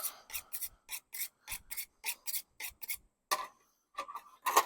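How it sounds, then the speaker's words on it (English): Knife cutting out the bung of a skinned beef carcass, giving a series of short, regular rasping strokes close up, each a brief scraping burst with small gaps between them, and no talk. "so now we are going to go ahead and bung this thing out"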